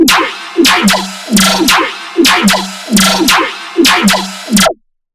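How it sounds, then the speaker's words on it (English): A gritty, zapping synth bass repeats in short bursts with sharp downward sweeps, about seven hits in a steady rhythm, loud and alone, ending abruptly. "So what makes this sound like a laser bass?"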